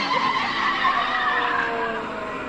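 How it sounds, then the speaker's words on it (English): Champ Car race car at 2003 Cleveland qualifying sliding as the back end steps out over a road crown, a loud sustained tire squeal and skid over engine roar, steady throughout. "When the car crosses that crown in the road, the back end really stepping out."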